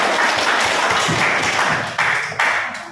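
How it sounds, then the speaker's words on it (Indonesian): A class of schoolchildren applauds classmates stepping up to present, a dense wash of many hands clapping together in a classroom, steady for a few seconds with a couple of brief dips. "Berikan tepuk tangan untuk teman yang semangat."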